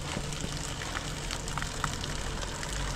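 Rain falls in the mountains at Kedarnath as a faint, steady hiss of patter, with a few sharper drops and no voices.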